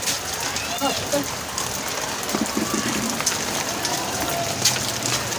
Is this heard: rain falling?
yes